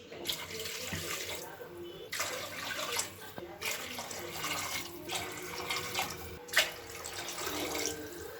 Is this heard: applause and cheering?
no